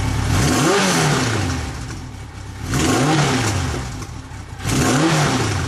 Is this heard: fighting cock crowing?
no